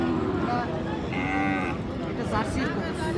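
A crossbred Jersey cow at the Aftabganj cattle market in Dinajpur gives a single drawn-out moo, close and clear, amid the market's steady crowd noise and people talking nearby.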